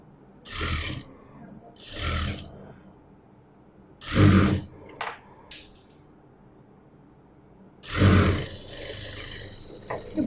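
A sewing machine stitching a sleeve onto a shoulder seam, running in short bursts of whirring hum separated by pauses, close and fairly loud.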